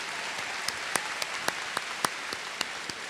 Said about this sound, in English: more round of applause for those wonderful words.